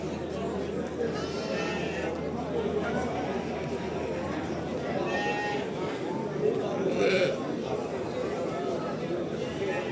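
At a sheep market in Ganja, sheep and lambs bleat repeatedly at varying distances, over a constant hum of chatter and people talking nearby.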